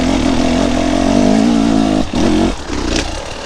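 An enduro motorcycle engine revs steadily at low speed, a loud, close, continuous throbbing drone that dips briefly twice, with no voices.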